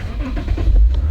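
A black-and-chrome Lexus F Sport convertible engine starting up, a brief loud low rumble that swells as it catches, heard alone.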